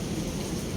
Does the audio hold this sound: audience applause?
no